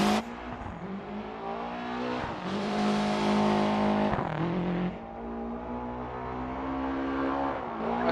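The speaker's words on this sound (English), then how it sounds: "Russell Reyes using the impressive acceleration capabilities of the Lancia to belt in front of everybody." A Lancia rally car in a digital rally racing game accelerates hard, its engine revving loud and steady through gear changes with rising and falling pitch and no voices.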